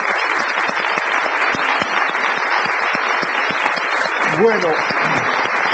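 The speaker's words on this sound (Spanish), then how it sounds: "Recibamos a Saide y a Fernando con un fuerte aplauso, por favor." A television studio audience applauds steadily and loudly for guests, a dense wash of clapping sustained throughout, with a brief voice speaking over it near the end.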